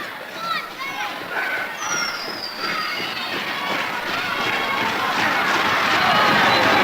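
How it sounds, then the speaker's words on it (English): A 1976 WWWF All Star Wrestling arena crowd clapping hands and stomping feet, a broad continuous roar of applause and stamping that builds steadily louder, with a commentator talking over it. "Here are the fans here, clapping your hands, stomping your feet, trying to encourage Irish Pat Barrett to get up to his feet"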